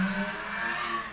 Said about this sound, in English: Great, you have a very powerful car, random stranger.